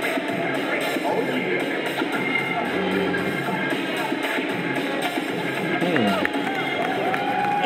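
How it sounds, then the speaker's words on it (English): Cheering crowd at a breakdancing battle between b-girls from China and Portugal, a dense, steady roar of many voices and babble, swelling slightly toward the end over music. "She's definitely got the crowd on her side."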